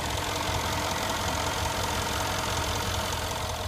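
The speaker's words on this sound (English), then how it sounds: "Beautiful engine." A 2015 Mercedes-Benz E63 AMG S-Model 4Matic sedan engine idling, a steady low mechanical hum with a faint rhythmic ticking, moderately quiet and unbroken, with no voices.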